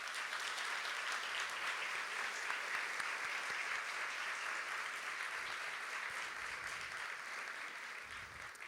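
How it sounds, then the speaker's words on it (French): Sustained audience applause at a university graduation ceremony, a dense, even wash of many hands clapping, continuous and steady from start to end with no talking over it. "je vous propose tous et toutes de les applaudir très fort"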